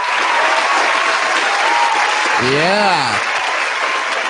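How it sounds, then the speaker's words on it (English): Studio audience applause during a talk-show episode, a loud, continuous wash of clapping held at an even level, briefly overlaid by a short spoken exclamation. "give yourself another round of applause"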